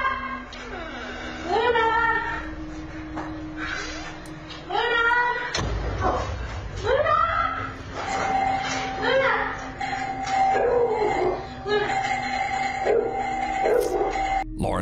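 A dog inside a house yips, whimpers and howls in repeated drawn-out cries, mixed with other voices and a sharp thud partway through.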